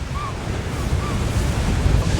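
Beach surf washes continuously against the shoreline, a steady near wash of waves mixed with wind buffeting the microphone.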